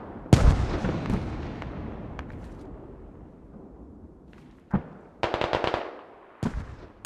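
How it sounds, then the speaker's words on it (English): Mortar fire in the military shooter Squad: one loud, close boom that rings out and decays, then a few distant thuds and a quick cluster of sharp cracks, with no talk. "Mortars on the hab."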